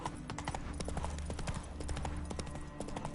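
In the game Witcher 3, Geralt's horse Roach gallops, producing a quick, rhythmic run of hoof clops close up, with a soft low rumble beneath.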